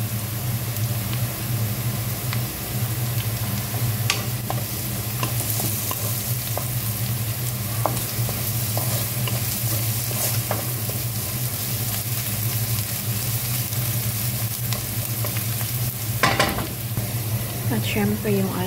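Garlic sizzles in a pan while being stirred, a loud continuous frying hiss with occasional scrapes and clicks of the utensil, steady and close throughout.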